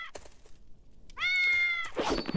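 A cartoonish cat meows in the Souls-like action game Gustavo: Kingdom Rebirth, a single drawn-out, close and fairly loud meow between softer game thumps and effects.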